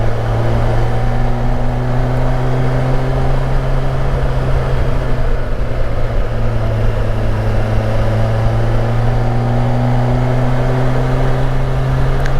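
A Kawasaki Versys 1000 motorcycle riding a twisty road, with a loud steady engine drone at nearly constant pitch and constant wind rush, heard close from the rider's position with no talk.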